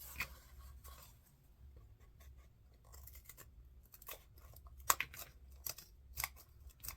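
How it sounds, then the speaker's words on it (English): Sharp scissors snip around a paper heart stencil cut from an upcycled magazine page, giving quiet, irregular crisp clicks and paper rustles close up, with no talking. "we're just going to go ahead and cut all the way around"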